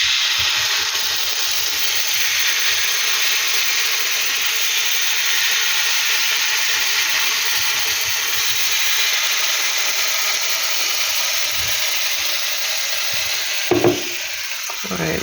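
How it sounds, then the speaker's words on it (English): A vegan, eggless omelette cooks on low heat in a pan, giving a steady, even sizzle and hiss throughout. A brief clatter of utensils comes near the end, and no voices are heard. "then we can cook it in the second pan so you can see"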